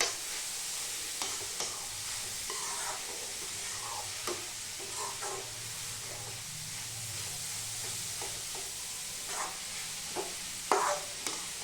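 Carrots sautéing in ghee over lowered heat for gajar halwa, a soft continuous sizzle with occasional quiet stirring scrapes, faint and close, no voices.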